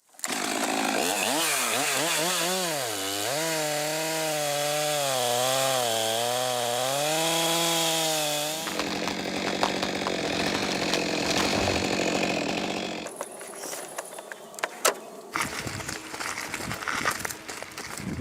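A chainsaw felling a tree revs loudly, its pitch rising and falling as it bites into the trunk, then drops to a rougher, lower cutting drone before a quieter stretch.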